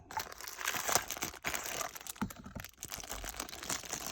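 Crinkling plastic and paper packaging while unboxing a Smith & Wesson pocket knife, close, continuous rustling and crackling with small crunches and no talk.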